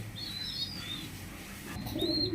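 A breeding pair of Nun pigeons, soft low cooing murmurs with a few faint chirps above, quiet and close, no talking.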